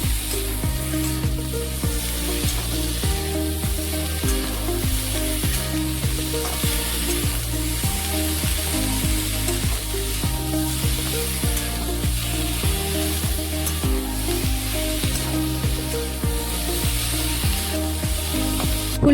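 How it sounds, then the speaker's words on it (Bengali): Cauliflower frying in a pan (kadai) with salt, giving a steady, loud sizzle with stirring, unbroken across the whole stretch with no talking. "এরপর খুব ভালোভাবে ভাজতে থাকবো।"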